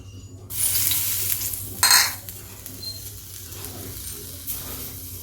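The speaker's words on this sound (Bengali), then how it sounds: "এবারে ওই তেলে আমি দিয়ে দিচ্ছি তেজপাতা" Bay leaf dropped into hot oil in a pan of mixed vegetable cooking, giving a steady close sizzle with a brief louder burst of stirring and utensil scraping partway through, no voices.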